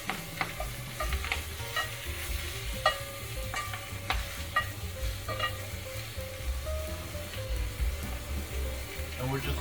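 A cube of butter sizzling in a pan for salmon meuniere, a moderate crackling fry under repeated scraping and stirring clicks, with a low rumble underneath.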